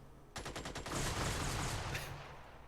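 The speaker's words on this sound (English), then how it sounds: "Epsilon, you have firing permission. Release grenades." Grenades fired in the turn-based strategy game Xenonauts: a rapid burst of sharp launch pops followed by a sustained, loud rumbling blast that slowly fades, with no talk over it.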